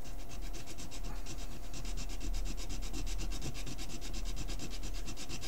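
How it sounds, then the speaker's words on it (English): A real silver round is scraped hard across a test stone, giving a steady, continuous gritty rubbing in quick repeated strokes, close and fairly loud, with no talking. "We're going to scrape onto the stone a line."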